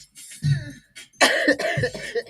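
Several harsh, close coughs in quick succession, rough and throaty, with a brief pause between the first cough and the rest.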